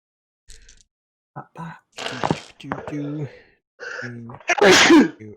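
A single loud sneeze bursts out near the end, following brief indistinct murmurs and small voice sounds.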